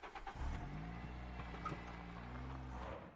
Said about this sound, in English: Oh my god, the truck noises.